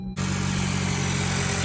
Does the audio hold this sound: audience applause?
no